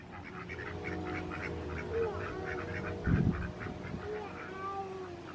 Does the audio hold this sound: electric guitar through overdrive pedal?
no